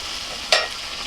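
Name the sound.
hilsa fish oil frying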